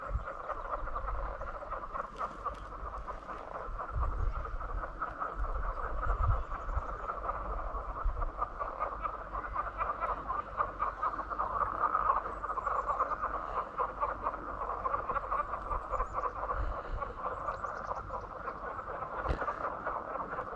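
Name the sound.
frogs croaking at a lake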